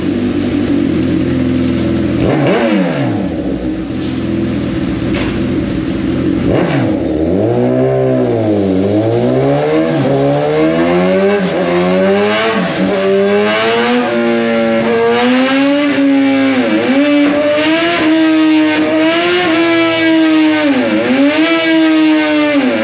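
A 2020 Suzuki Katana sport motorcycle revs hard close up, its engine rising and falling through repeated throttle blips from idle to high pitch, loud and alone with no talking.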